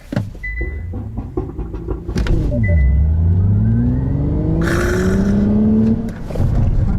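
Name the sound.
electric car accelerating from a launch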